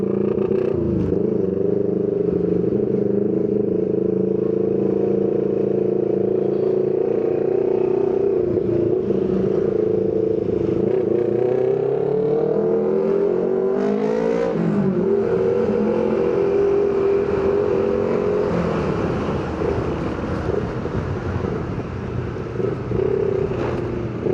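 Honda PCX 160 scooter engine on a test ride, a steady close drone that rises in pitch as it accelerates around the middle, then settles, continuous and loud with no talk.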